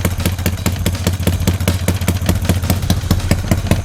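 Honda Wave 125i engine in a Dream Super Cub with a short-stroke setup and an aftermarket slit exhaust, loud and close, pulsing in a rapid, even, throaty rhythm at idle with clattery edges.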